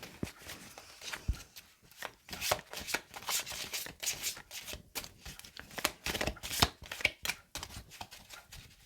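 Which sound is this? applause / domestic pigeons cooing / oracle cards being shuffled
oracle cards being shuffled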